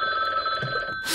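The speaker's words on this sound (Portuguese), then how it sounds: "peço desculpa, peço desculpa o telefone" A telephone rings steadily for about a second, a continuous electronic trill in a room, fairly loud and close, with no talk over it.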